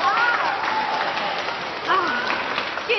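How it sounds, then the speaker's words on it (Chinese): Thin, scattered applause from a small audience at a staged product event, moderately loud with gaps, while a voice talks over it. "谢谢大家稀稀拉拉的掌声"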